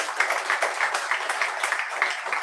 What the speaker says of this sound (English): Can we have a big round of applause for it?